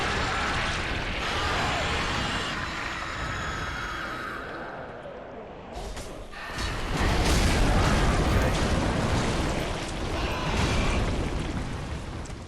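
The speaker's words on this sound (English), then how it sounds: "I have black fire bombs. These do a little bit more damage." Black fire bombs exploding in Dark Souls 3 during a fight at the Dragon Barracks, with a sharp burst followed by a roaring, fiery rumble that swells and lingers, loud and full over layered game sounds.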